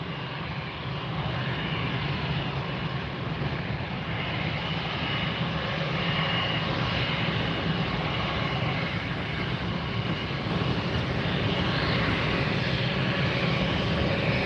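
A Douglas DC-3 propeller airliner takes off at Fort Lauderdale, its piston engines giving a loud, steady roar that fills the whole stretch without a break.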